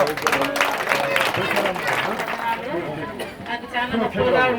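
Church congregation clapping and cheering at a dedication service of a healing church, a steady wash of applause and crowd noise mixed with loud speech throughout.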